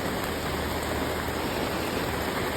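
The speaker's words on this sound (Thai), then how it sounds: "ฝนตกแล้ว" Morning rain at a roadside grilled pork skewer stall in Khon Kaen: a loud, dense, unbroken hiss of rainfall pouring steadily and close by, with no voices.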